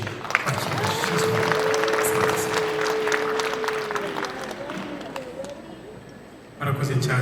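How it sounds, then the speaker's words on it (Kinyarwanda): A crowd claps in welcome for Shizo at a wedding, with a steady patter of applause while a voice carries a long drawn-out sustained tone over it, ending in a brief quieter moment before clapping resumes. "ababona ari ibyiza banyemereye bahuze ibiganza n'amashyi menshi bakira Shizo"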